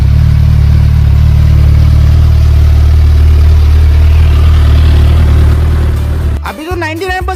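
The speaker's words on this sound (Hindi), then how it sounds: "मैंने गाड़ी को स्टार्ट कर दिया और मैं उसकी आवाज सुन के ये चेक कर रहा था" A restored Hayabusa motorcycle in GTA 5 idles with a loud, steady low engine rumble for several seconds, then fades as a voice begins speaking.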